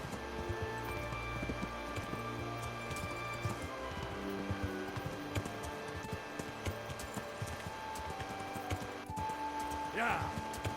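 A horse's hooves clip-clop steadily in the medieval video game Kingdom Come Deliverance, the rhythmic steps sitting under game music and ambient background sound.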